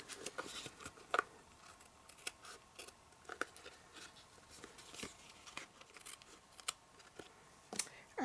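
Small scissors trim paper for a handmade card, producing a series of faint, crisp snips spread irregularly through a quiet room.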